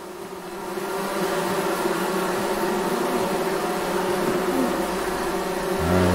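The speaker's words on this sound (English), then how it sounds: "Alright, there's bees right there." Steady insect buzzing from bees in the Among Trees video game, a continuous drone lasting throughout at moderate level, with no talking.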